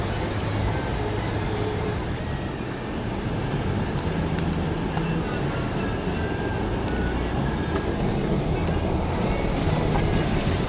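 A Ford Escape fords a river on a rough, bouldery road, with a steady, dense wash of splashing water and rumbling engine noise filling the whole stretch, loud and continuous with wind buffeting the microphone.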